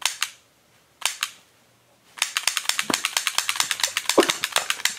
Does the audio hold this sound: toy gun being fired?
yes